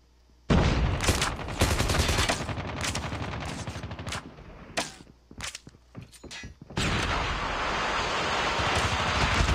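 In a Call of Duty match, loud rapid gunfire bursts and clattering shots come close together, broken by short pauses, then give way to a steady hissing noise.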